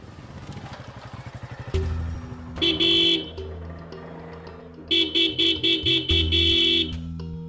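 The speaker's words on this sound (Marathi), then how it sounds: "हा मगातपासून हॉर्न वाजवतोय" A car horn honks repeatedly and loudly: one long blast, then a burst of short, rhythmic toots, with an engine idling underneath and no talk.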